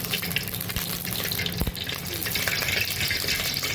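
Fennel seeds spluttering in hot oil for a village-style country chicken curry, a dense crackling sizzle with a couple of sharp pops, close and steady throughout.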